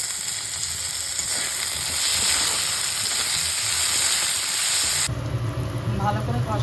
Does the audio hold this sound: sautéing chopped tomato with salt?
yes